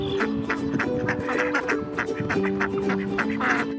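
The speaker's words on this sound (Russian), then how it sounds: "Четвертый год подряд салдинцы любуются уточками в парке Гагарина." Ducks quack repeatedly in a steady chattering chorus at a pond in a city park, loud and close, with water and ambient noise beneath.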